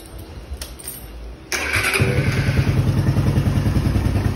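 Suzuki Raider motorcycle engine firing up after some clicking, then settling into a steady, close idle as it warms up.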